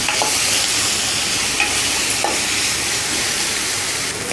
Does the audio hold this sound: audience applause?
no